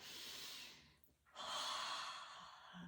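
Close, breathy airflow from a person drawing in breath while bracing the pelvic floor and deep core muscles before planks; two long breaths with a short pause between them, no talking.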